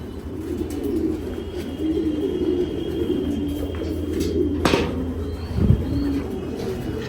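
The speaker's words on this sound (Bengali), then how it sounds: "এগুলা গতবারে উড়া কবুতর, রেস করা কবুতর" Female racing pigeons cooing: soft, low, repeated coos close by over a faint background hum, with an occasional brief rustle or flutter.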